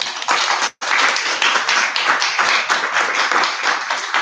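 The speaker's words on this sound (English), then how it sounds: "So please clap your hands for Vibiana Barcelillo Chamberlain." Audience at a love and protest poetry reading breaks into steady, dense applause, many hands clapping loud and close, with one brief gap near the start before it continues without pause.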